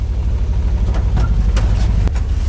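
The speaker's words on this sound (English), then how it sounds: "So, now let's pump up the brake system, warm up the engine, and go." Engine of an early ZIL 130 fuel tanker truck warming up, a steady low idle rumble with no one speaking, the exhaust outlet at the front of the truck.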